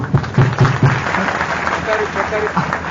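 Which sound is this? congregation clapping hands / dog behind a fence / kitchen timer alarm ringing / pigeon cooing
congregation clapping hands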